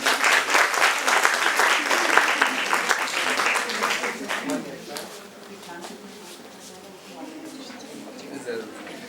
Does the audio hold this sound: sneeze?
no